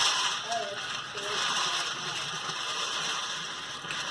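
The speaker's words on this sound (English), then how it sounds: "I'm going to spin this and you're going to hear the pennies move out" Pennies sliding outward inside a spinning ball make a steady, fairly quiet rattling whir with faint metallic clinks throughout.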